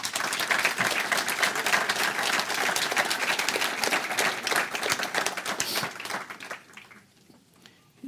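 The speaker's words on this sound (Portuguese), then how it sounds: "Uma salva de palmas para os 2, se faz favor." Audience applause at a book presentation in Portugal, a dense, sustained wave of clapping from a full room that holds steady, then thins and fades out over the last seconds.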